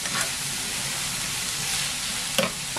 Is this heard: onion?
yes